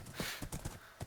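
Horse hooves clip-clop in a rhythmic gait as a rider crosses open ground in a video game, four or five distinct thuds in about a second, fairly close and alone.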